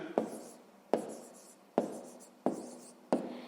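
A pen writes on paper in five sharp, evenly spaced strokes, each a quick tap followed by a short scratching tail, close and quiet with no voices.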